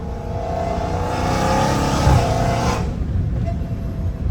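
A Dodge Challenger Hellcat Redeye with a titanium exhaust revs and accelerates, a loud, close, raspy engine scream that builds and then drops away sharply near the end.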